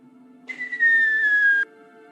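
A single steady whistle, slowly falling in pitch for about a second before cutting off sharply, like a voice mimicking an incoming projectile.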